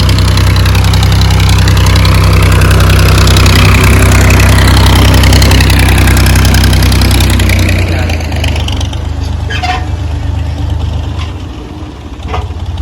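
A 480 tractor engine runs loud and close with a deep, steady idling rumble, then eases off to a lower, rougher throb near the end.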